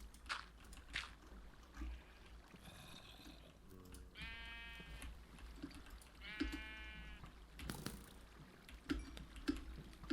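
Minecraft sheep bleat several times, wavering cries spaced a few seconds apart over quiet game ambience, with light clicks and scattered thuds between them.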